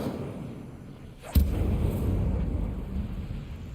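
A fire spell cast in Hogwarts Legacy lands as a single sudden deep boom, followed by a sustained low roaring rumble like flames catching and burning on.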